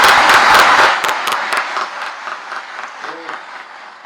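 Crowd applauding at a political rally in Uttarakhand, dense clapping loud at first then thinning and fading over a few seconds, with a brief tone near the end.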